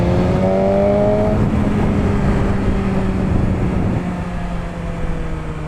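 A 207-horsepower superbike pulls hard at open throttle, its engine note a loud, steady high roar with rising harmonics that eases slightly toward the end, heard close and without talk.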